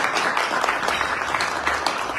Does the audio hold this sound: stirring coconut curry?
no